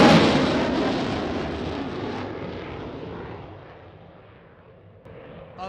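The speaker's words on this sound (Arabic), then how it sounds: "الطائرة المقاتلة F-16 مرت الآن من سماء الاحتفال" An F-16 fighter jet roars loudly overhead during a military parade, the engine noise starting strong and close, then fading gradually as it passes into the distance.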